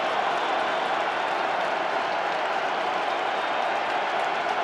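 Loud, steady roar of a stadium crowd at Syracuse's Carrier Dome during a college football game against Liberty, a dense continuous wall of cheering and noise with no breaks, heard up close.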